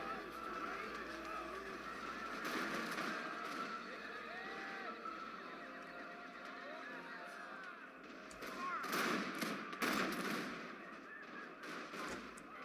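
Troops firing muskets in the Empire Total War video game, ragged volleys of crackling shots that swell in two bursts over a continuous battlefield din, with other game noises mixed in.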